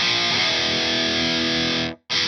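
Heavily distorted electric guitar played through a Mesa Boogie amp plugin with an impulse response, a dense, loud sustained chord that cuts to silence briefly before starting again.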